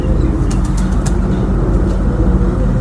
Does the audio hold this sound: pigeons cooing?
yes